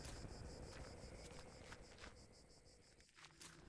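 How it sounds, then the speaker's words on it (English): Crickets chirp in a steady, faint pulsing chorus through a quiet night scene in the video game The Last Door, with a soft low background hum beneath. "I hear crickets."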